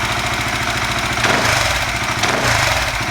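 A Suzuki FU 150 fuel-injected motorcycle fitted with an aftermarket ECU runs at a steady, close idle, its engine putter throbbing evenly with two brief rises in revs.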